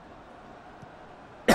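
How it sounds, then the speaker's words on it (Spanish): One sudden, loud, close cough at the very end after near silence, heard against a soft background hum. "que me estaba tosiendo y no me he enterado"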